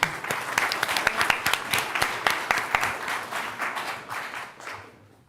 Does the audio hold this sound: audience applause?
yes